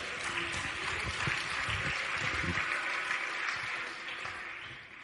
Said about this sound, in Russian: Дайте ему аплодисменты за эту истину